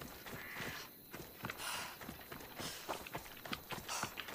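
Horse hooves clip-clop in Assassin's Creed Odyssey. A quiet, uneven run of soft hoof thuds, like a horse walking, sits over a faint game ambience with no talking.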